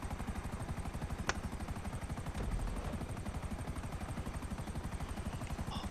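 A video game helicopter's rotor thumps in a fast, steady beat throughout, with one sharp crack and a brief low rumble partway through.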